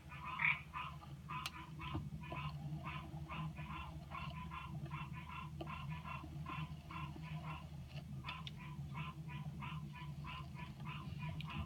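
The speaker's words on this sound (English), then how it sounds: "you gotta be able to hear those frogs right now" Many frogs croak continuously in a fast, pulsing chorus at moderate distance before rain, unbroken for the whole stretch, with no voices.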